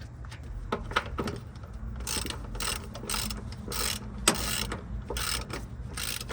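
A ratchet tightens down new Gabriel front shocks on a Peterbilt 379 truck, with bursts of rapid clicking pawl strokes repeating in short runs, close and clear, mixed with faint metallic knocks.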